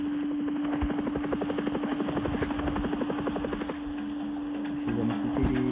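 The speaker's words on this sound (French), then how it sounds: "Il va me couper en deux, lui, avec son hélico." Helicopter in a video game, its steady rotor chop droning loud and continuous throughout, easing slightly partway before picking up again near the end, with no talking.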